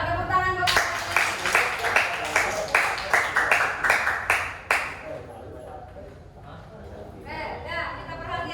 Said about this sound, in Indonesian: Pintar, tepuk tangan dong.